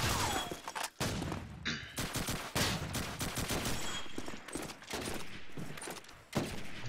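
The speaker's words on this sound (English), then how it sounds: "Obi this time with the MG42 onto Vigor, absolutely deleting him off the map" MG42 machine gun fire in Call of Duty 2 comes in dense, rapid bursts broken by brief gaps, with sharp cracks and thuds from a busy match, fairly quiet overall.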